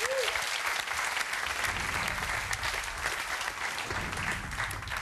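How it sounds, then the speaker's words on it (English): A studio audience at a quiz game show claps loudly and continuously, a dense, even wash of applause that holds steady throughout. "So give them a round of applause."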